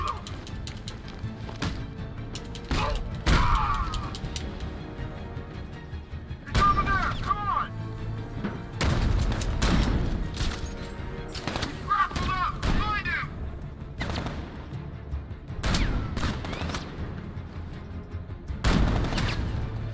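Gunfire and explosive booms from the Batman Arkham Knight video game, bursts of sharp shots and heavy thuds scattered over a continuous rumbling game soundscape, with occasional speech mixed in.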